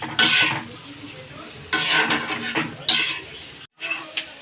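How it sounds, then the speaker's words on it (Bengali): Chopped onion frying with potatoes in a pan is stirred with a utensil. Bursts of scraping and clatter come in three main rounds over a soft sizzle, with a brief pause near the end and no speech. "আলুর মধ্যে দিয়ে দেবো, সাথে নাড়তে থাকবো ভাজা ভাজা হতে হতে।"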